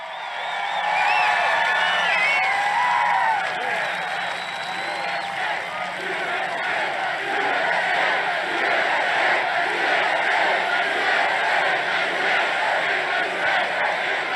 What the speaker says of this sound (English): They're cheering that he swore.